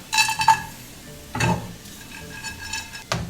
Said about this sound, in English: I'm going to be toasting those walnuts a little bit.